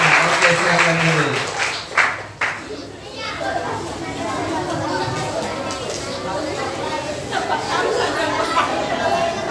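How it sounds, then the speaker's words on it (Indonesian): At a children's Christmas church event, the audience breaks into lively applause mixed with children's chatter and shouts, with an adult voice briefly heard at the start, the clapping steady and moderately loud throughout. "Ayo sekali lagi kasih tepuk tangan yang meriah untuk Tuhan Yesus"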